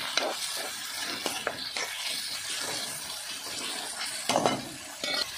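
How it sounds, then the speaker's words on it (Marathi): Tomatoes being stirred into a cooking pan, wet squelching and scraping strokes over a low sizzle, with a few louder clanks of the spoon, close and without talk. "टोमॅटो टाकले आता मिक्स करून घेऊ."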